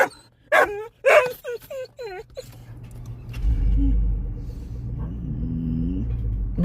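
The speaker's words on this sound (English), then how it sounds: "you got every dog in here barking" Several dogs bark in sharp, repeated bursts close by, then fade out as a low vehicle engine rumble takes over.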